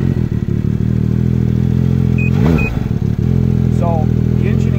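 A 2019 Ski-Doo Renegade X-RS 900 ACE snowmobile engine starts and settles into a loud, close, steady idle with a rough rumbling thrum, plus a few clattering knocks and faint background sounds.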